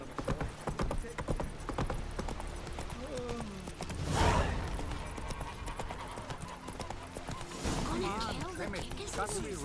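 Hooves of Roach, a horse in The Witcher 3, clip-clopping in a steady rhythm under game dialogue, with a brief crash of noise midway and voices speaking over the hoofbeats.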